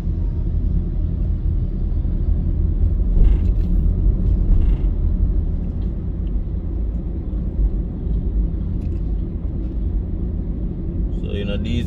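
A car drives along Constant Spring Road toward Half Way Tree in the early morning, its engine and tyre rumble steady, close and loud throughout, with a voice faintly present.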